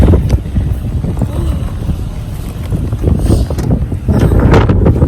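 Heavy wind buffeting the microphone with a steady rushing roar, mixed with rain noise and gusts, loud and close throughout.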